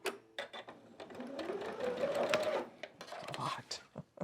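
A sewing machine whirs in a short burst of rapid stitching on quilt fabric, close by, with clicks and a person's voice around it.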